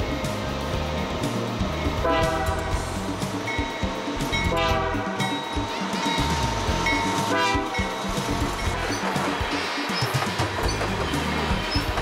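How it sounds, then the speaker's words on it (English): A heavy loaded coal train rumbles past steadily for the whole stretch, with the wheel and rail noise of a long string of cars and no talk. "A loaded coal train heads west."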